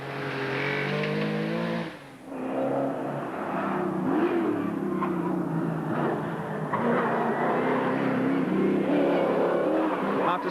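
Rally car engines rev and roar on a gravel stage of the London to Sydney Marathon Rally 2000, one a Ford Mustang, loud and close with a brief dip before the engine note climbs again.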